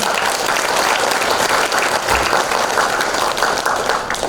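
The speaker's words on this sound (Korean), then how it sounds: "큰 박수 한번 칩시다" Loud, sustained audience applause from a large crowd at a Korean public speaking event, dense clapping filling the whole stretch at even intensity without pause.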